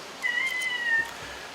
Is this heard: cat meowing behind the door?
yes